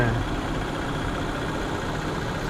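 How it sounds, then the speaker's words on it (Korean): A steady, low engine hum from a 2023 Genesis G90 long-wheelbase mild hybrid idles continuously at close range, an even rumble with no revving and no voices. "소리도 지금 엔진 시동을 걸어놨는데"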